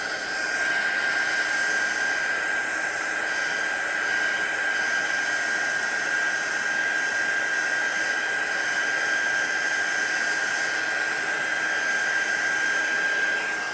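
A hair dryer blows steadily and loudly at close range over a hand-painted flower card, a continuous whooshing roar with a constant high whine running through it, uninterrupted and with no voices.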